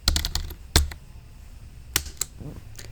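Someone types on a computer keyboard nearby in a quiet room, producing a few sharp clustered key clicks with short pauses between them.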